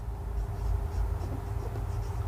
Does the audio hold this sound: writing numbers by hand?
yes